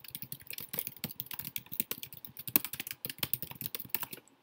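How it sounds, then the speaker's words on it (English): Fingers type on a computer keyboard in quick, uneven bursts of close, crisp key clicks with short pauses, alone with no talking. "So I'm going to type in"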